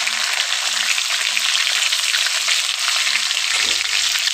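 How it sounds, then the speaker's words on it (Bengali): Chopped garlic and green chilli fry in a pan on an electric heater, giving a loud, steady, close sizzle with a faint low thump near the end and no talk. "তারপরে দিয়ে দিচ্ছি কাঁচা লঙ্কা কুচি"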